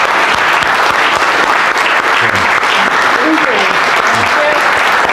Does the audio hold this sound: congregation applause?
yes